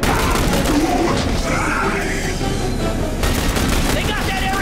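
Sustained gunfire and explosive booms from The Bureau: XCOM Declassified, rapid shots layered with rumbling impacts in a chaotic firefight, loud throughout.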